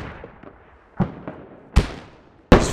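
Frag grenade explosions in the Squad tactical shooter during a close-range defense of a large forward base: four sharp blasts, each with a rumbling tail and uneven gaps between them, close and loud with no talk.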